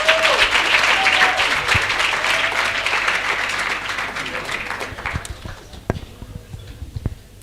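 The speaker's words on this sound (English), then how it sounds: "can you give us one more round of applause?" A conference audience gives a round of applause, dense and loud at first, then thinning into scattered individual claps that fade out over several seconds.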